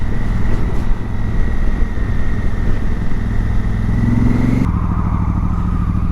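A motorcycle rides steadily, its engine a loud, continuous drone close by, with the pitch shifting slightly near the end and no talking.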